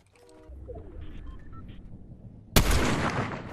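Gunfire in the Fortnite video game: after a quiet stretch with faint game tones, a loud sudden burst of shots erupts and keeps going as a dense, close rattle to the end.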